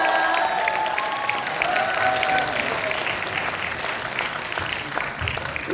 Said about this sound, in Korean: 귀한 강의 들려주신 박희영 원장님께 다시 한번 큰 박수 부탁드립니다